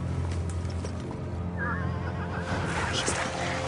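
A horse on a trail neighs in a wavering whinny midway through, amid snorting breaths and a few hoof clops on the ground, fairly close and moderately loud with no talk.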